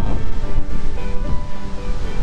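Sea surf rolls in steadily at a beachfront villa in Hua Hin, a loud and continuous wash of waves with some wind rumble and no speech.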